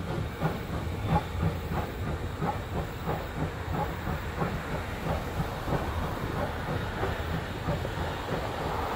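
A steam locomotive near an old CNJ railroad turntable, with loud continuous steam hiss over a rumbling, rhythmic clatter of passing rail cars, steady throughout.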